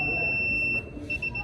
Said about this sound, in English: When the person comes closer, it triggers the alarm.